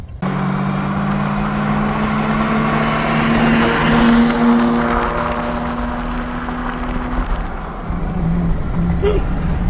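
A 1991 Mazda RX-7 being driven, its engine holding a loud, steady droning tone with a rising pitch for several seconds before easing off amid road and wind noise.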